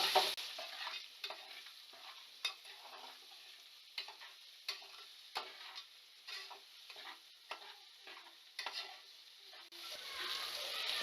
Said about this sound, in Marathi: आता यामध्ये आपण शेंगदाणे आणि बटाटे टाकून घेऊ, जे आपण ऑलरेडी फ्राय करून ठेवले होते.